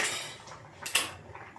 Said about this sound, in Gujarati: વચ્ચે વચ્ચે આ રીતે થોડું હલાઈશું આપણે, એટલે નીચે તપેલીને ચોંટે નહીં